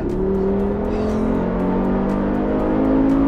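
Mercedes-AMG G 63 accelerating hard to overtake, its engine note rising steadily and loud throughout, heard from inside the car with no talking.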